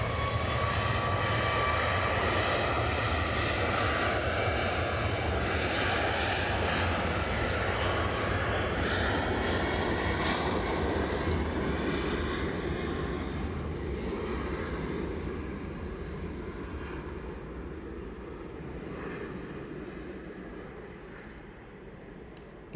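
Jet engines of a large Delta airliner on the runway at Edinburgh Airport roar loudly and steadily, then gradually fade as the aircraft moves off.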